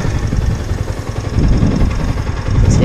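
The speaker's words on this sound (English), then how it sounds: "Let's hear the engine." A 2017 Yamaha YZF R125 motorcycle idles close by with a loud, continuous engine rumble that swells slightly toward the end, with no voices over it.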